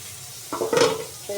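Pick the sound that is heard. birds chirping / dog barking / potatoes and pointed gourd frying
potatoes and pointed gourd frying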